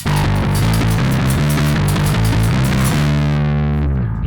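A bass guitar through a distortion plugin plays a driving, gritty riff with repeated notes, loud and close, ending on a sustained note that fades.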